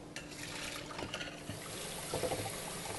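Canned beans rinsed under running water, a soft steady trickle and splash with faint clinks of the can or container, quiet and close.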